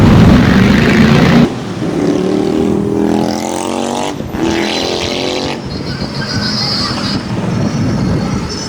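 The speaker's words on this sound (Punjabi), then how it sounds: "ਡੈਡੀ ਮੋਟਰਸਾਈਕਲ ਚਲਾਉਂਦੇ" Engine drone of a motorcycle carrying two riders on the road, with wind rush and shifting pitch, loud and close throughout.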